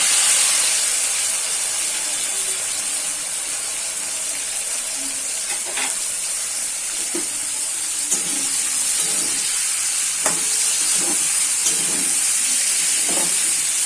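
Onions added to hot oil in a pan for a coriander chicken curry, frying with a steady, loud hiss and sizzle throughout, with a few faint clinks of stirring near the end and no voices.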